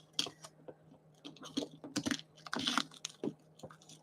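Sticky packing tape is peeled off a cardboard box in a string of short crackling rips and scrapes, close and fairly quiet, with no talking.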